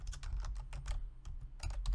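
Rapid, uneven clatter of keys on a computer keyboard, typed in short bursts with brief pauses, close and clear, during a Node.js buffer-overflow CTF exploitation session.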